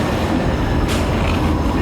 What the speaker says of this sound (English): Hey, the train's here.